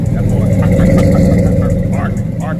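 A car with a dual exhaust idles steadily close by with a deep, rumbling burble, loud and continuous throughout, while people talk over it.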